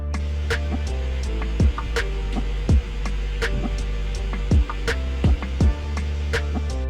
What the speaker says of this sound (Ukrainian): А це шум з нагрузкою.